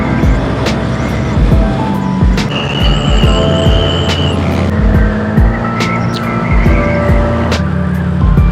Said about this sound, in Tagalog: Tuloy na motor ni Nongnong.